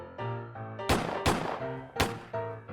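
Three sharp, loud gunshots ring out over a steady musical backdrop, spaced unevenly across a few seconds, during a Call of Cthulhu tabletop role-playing session.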